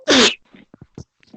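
A single sharp, loud human sneeze bursts out at the start, followed by faint, scattered murmurs of voices in a classroom.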